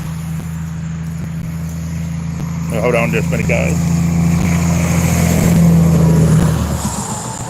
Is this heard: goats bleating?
no